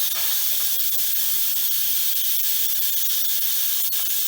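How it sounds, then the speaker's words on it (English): Steam venting hard from a pressure cooker while a seafood chowder cooks, a loud continuous hiss held at an even level from start to finish, close and alone with no talking. "right now I'm just going to vent the steam from the pressure cooker"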